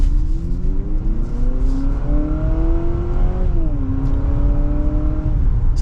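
2025 Honda CR-V Sport Touring Hybrid AWD accelerating in sport mode, the engine humming and rising steadily in pitch, one brief dip as if shifting, then climbing again under constant road and cabin noise, heard from inside.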